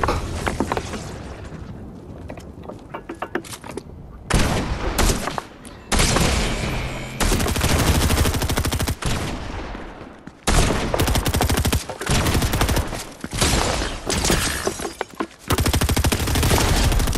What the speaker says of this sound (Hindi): हाँ गोली चला रहा हूँ